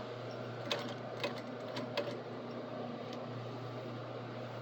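A sewing machine topstitching an apron runs slowly with a steady, quiet mechanical hum and a few faint needle clicks, with no talking.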